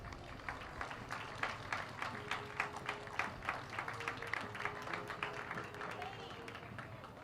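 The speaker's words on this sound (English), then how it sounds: "Let's give them a round of applause" A parade crowd outdoors claps for a rescue squad, a steady, moderately distant patter of many hands with light background chatter mixed in.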